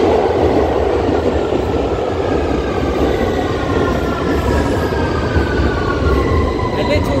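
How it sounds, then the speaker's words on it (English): A tube train at an underground station gives a loud, continuous rumble of wheels and carriage noise with faint rising whine tones, filling the whole stretch without pause. "So I'm just at the train tube station."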